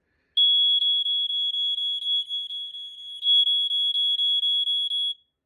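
A First Alert SA130S smoke alarm sounds under test with a loud, piercing, steady high-pitched tone that pulses slightly and runs for about five seconds before cutting off.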